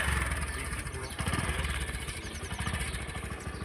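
A motorcycle engine starts and then runs with rapid, low, throbbing pulses, close by and fairly loud, in a village setting.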